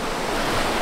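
Waves washing onto a tropical beach in crocodile country, a steady broadband rush of surf with wind, close and constant, with no voices.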